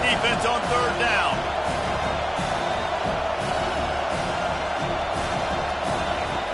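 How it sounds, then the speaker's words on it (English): Football stadium crowd roaring for the defense on third down, a dense sustained wall of cheering with scattered whoops, loud and continuous, with a voice talking over it. "Decibels rising as the crowd gets behind this defense on third down"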